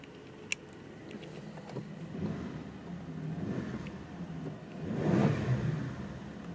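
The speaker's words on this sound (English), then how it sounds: "Healthy engine, this one runs great." A 1994 Isuzu Bighorn 4WD engine idles with a low rumble, swelling gently as it revs slightly near the end, after a sharp click at the start.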